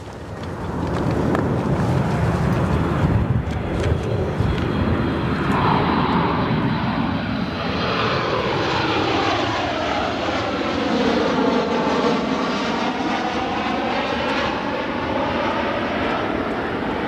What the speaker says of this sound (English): we do have our United Airlines Boeing 737 MAX 8 from Dallas,